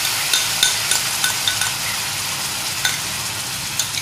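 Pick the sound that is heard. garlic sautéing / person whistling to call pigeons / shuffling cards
garlic sautéing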